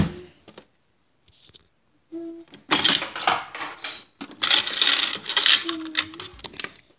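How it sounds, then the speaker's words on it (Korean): Coins taken out and jingled for a toy claw machine game, with clinking and rattling metallic taps in close bursts after a quiet start, a brief tonal beep between them. "동전을 이렇게 꺼내서 한번 해볼게요."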